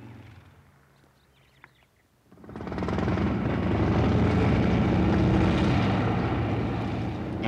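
A quiet lull, then a loud motorcycle engine roars up and holds a steady, rumbling drone close by for several seconds.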